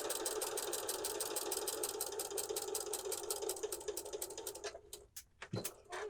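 Sewing machine stitching scraps of fabric for a quilt block, a fast, even needle rattle that runs close and steady, then slows to a few separate stitches and short stops near the end.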